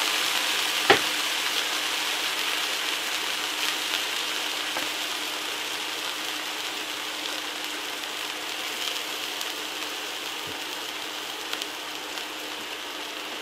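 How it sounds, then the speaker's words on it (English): A filet mignon beef tenderloin searing on a Ming Tsai induction unit in sear mode, giving a steady broadband sizzle with a few faint clicks and taps and no talking. "And now we're just going to sear this up."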